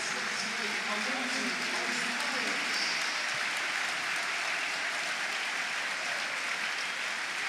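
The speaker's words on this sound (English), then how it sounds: "Gets applause on his way" Stadium crowd at a Preston North End versus Leeds United football match applauding as Osmajic walks off after being substituted, a steady broad wash of clapping and crowd noise filling the ground throughout.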